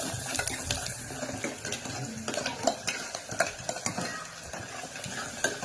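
Onion fries in a pan while being stirred, producing a busy, fairly quiet sizzle with repeated scraping and clattering strokes of the spoon throughout, with no talk.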